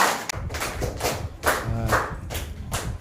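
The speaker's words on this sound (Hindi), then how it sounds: "तो ताली बजा दीजिए इनके लिए" A small classroom group claps for a student, a few uneven bursts of hand claps mixed with thumps, fairly faint and close.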